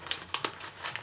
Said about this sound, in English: we're just going to make our crease right there by folding